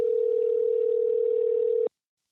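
A telephone line ringing on a call, one steady mid-pitched electronic tone holding for about two seconds, then cutting off to silence.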